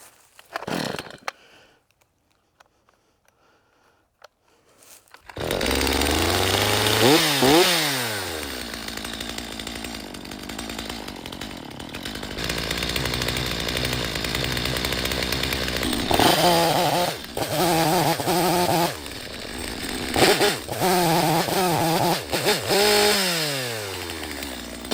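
A Stihl MS250 chainsaw engine starts after a brief quiet moment and then runs loud and close, its idle rising and dipping unevenly with several revving surges and a rough, wavering note throughout.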